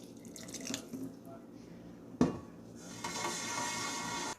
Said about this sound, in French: je vais ajouter 2 litres d'eau chaude et je laisse cuire pendant 30 minutes